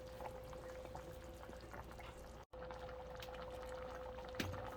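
A pot of beans simmers quietly, a soft bubbling and liquid burble under a faint steady hum, with a brief cut partway through.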